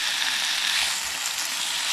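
Food frying over a woodland campfire gives a steady, close hiss and crackle of sizzling fat, continuous and fairly loud with no voices over it.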